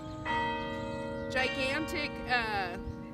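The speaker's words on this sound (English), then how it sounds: "like the sound of the bells" Carillon bells played from a large tiered keyboard ring out in melodic phrases, sustained tones layered and overlapping, with faint voices murmuring underneath throughout.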